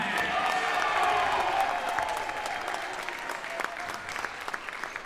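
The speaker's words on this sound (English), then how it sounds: "One more round of applause for our 64 officials" A crowd at the NIRSA men's national championship applauds its officials, sustained dense clapping from many hands that stays loud throughout and thins slightly toward the end, with a few voices mixed in.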